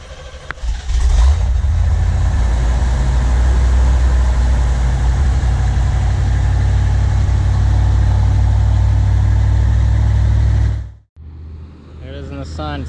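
A 1979 C3 Corvette engine idles high with the choke on, a steady, loud, close low rumble that runs unbroken for about eleven seconds, then cuts away to quieter sound with faint talk at the end.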